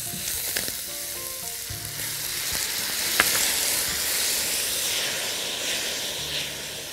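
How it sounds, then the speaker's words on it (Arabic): Vinegar sizzles in a hot pan of potatoes and shawarma, a steady close frying hiss lasting throughout with a few faint clinks of stirring. "هحط لها دلوقتي الخل"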